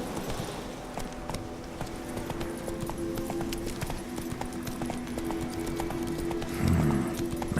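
Roach the horse gallops in The Witcher 3, steady clip-clop of hooves running throughout with a neigh near the end, set against game ambience.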